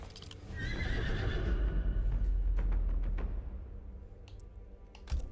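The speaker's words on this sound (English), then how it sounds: "Get on that outworld horse." A horse whinnies in a Mortal Kombat 11 fighting game outro, a high shrill neigh over heavy rumbling hoofbeats and low thuds, with a few sharp clicks as it fades.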